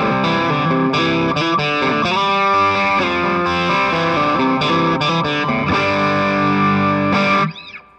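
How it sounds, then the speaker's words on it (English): An electric guitar runs through a Wampler Paisley Drive overdrive pedal with its glassy presence switch engaged, producing a bright, sustained, distorted phrase of chords and notes that plays loud and alone before cutting off. "we added a presence switch, and it goes from normal to more of a glassy presence"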